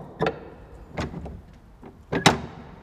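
Door squeaks and latch clatter recorded in a room: a few sharp clicks and knocks arrive in two clusters, near and fairly loud, with quiet gaps between them and no talking.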